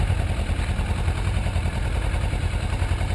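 A motorcycle engine running steadily in first gear as the rider slowly eases off the clutch, a continuous low rumbling drone close by with no talk.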